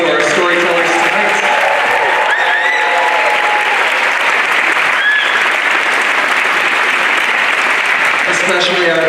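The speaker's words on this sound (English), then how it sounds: "let's have one more round of applause for our storytellers tonight" Sustained, loud applause from an audience at a community storytelling event, dense clapping that holds steady from start to finish.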